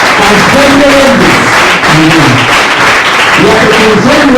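An audience at a talk with a writer breaks into dense, continuous applause that fills the room at full volume, with voices calling out over the clapping.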